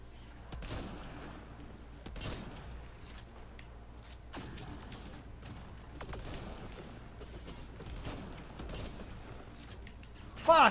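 Sharp, scattered gunshots from the video game Mass Effect Andromeda crack over a low rumbling background, some in quick clusters and others spaced apart, at moderate loudness.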